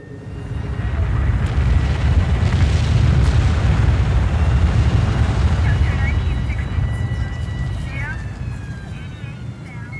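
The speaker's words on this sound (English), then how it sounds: "An explosion is heard as white smoke rises at the base of the building." An explosion at the base of a tall building in the September 11 attacks, filmed from New Jersey across the river: a deep, loud, sustained rumble that swells and holds for several seconds before slowly easing, with a faint whine above it.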